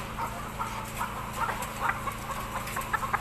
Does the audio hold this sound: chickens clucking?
yes